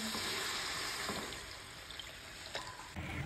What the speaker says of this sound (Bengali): ডালটা দিয়ে দেবো। এখন জল দিয়ে দেবো।